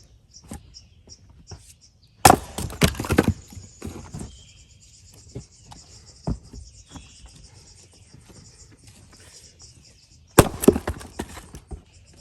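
A purple maul strikes and splits firewood outdoors, giving two sharp, loud cracking impacts spaced several seconds apart, each followed by wood clattering, with insects chirping and faint voices in the background.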